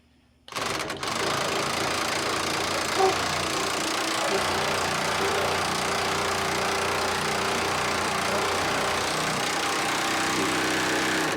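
Hitachi power tool tightens a radius arm bolt on a 1973-1979 Ford Dentside truck, starting abruptly and running as one loud, continuous, steady drone close by.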